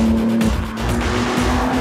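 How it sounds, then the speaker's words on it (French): A BMW M3 Touring drifting in fourth gear near 50 km/h, its engine a loud, steady drone with a faint tonal whine throughout, plus a brief dip partway through, heard close from inside with no talk. "dan nog heeft hij zoveel koppel dat we aan het driften zijn"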